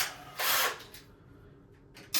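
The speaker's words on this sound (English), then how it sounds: "whenever we're drilling a hole, we can get a drill bit that gets pretty close to the size of the anchor" Power drill boring a hole for a wall anchor in a half bath, a loud high whine lasting about half a second, then quieter idle, a short burst near the end.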